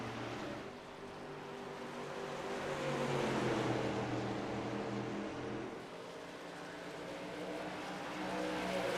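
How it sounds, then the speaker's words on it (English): Race car engines at a NASCAR Truck Series championship finale at Phoenix roar continuously at a moderate distance, swelling and fading as vehicles pass on track, with steady drone and no talk. "We're going to leave them entertained by the sounds of the race car"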